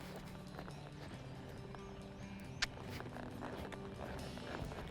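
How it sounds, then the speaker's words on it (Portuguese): Horse hooves clip-clopping on the ground as the horse is asked to gallop during a riding lesson, a steady rhythmic beat at moderate distance with a brief sharp knock midway, no talk. "Então vou pedir para ele galopar."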